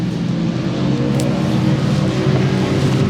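A Ducati Panigale V4S motorcycle runs flat out at Silverstone circuit, a steady, loud engine drone at full speed with wind rush, heard from close on board and alone, without talk.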